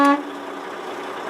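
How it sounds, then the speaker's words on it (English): A truck's horns are tested in one short blast, first a bright harmonic toot lasting a fraction of a second, then fading into a steady engine rumble, close and fairly loud. "I need to show them that my horns work, the city horn and the air horn"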